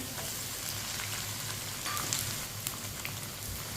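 Chopped onion and garlic cloves frying over a medium flame in a pan with cumin give a steady, soft sizzle with faint crackles throughout, with no voices.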